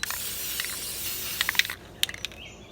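Spray paint hisses from an aerosol can onto frames on an outdoor deck painting table, a steady close hiss that ends with a few short clicking bursts and rattles.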